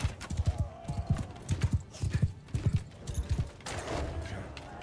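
Rapid rhythmic hoofbeats of a galloping horse in the video game Bannerlord during a siege, steady and close, with a whinny-like rush of noise near the end.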